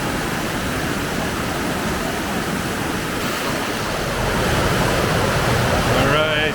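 Water rushes loudly and continuously through a culvert past a big rock, a close, broadband roar that swells slightly toward the end, with a faint voice briefly underneath.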